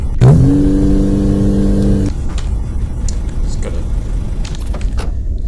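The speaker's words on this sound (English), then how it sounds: "E to start the car." A car engine in the video game Granny cranks and starts with a sharp burst, holds a steady droning rev for about two seconds, then cuts to a quieter rumble with a few clicks.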